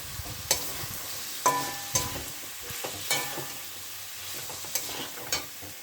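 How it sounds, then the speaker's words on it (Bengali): Cumin paste fries in a pan with a soft, continuous sizzle as a spoon stirs it, making intermittent scraping taps against the pan, close by and fairly quiet, with no voices. "এবার এই জিরে বাটাটাকে বা জিরের গুঁড়োটাকে একটু কষিয়ে নিতে হবে"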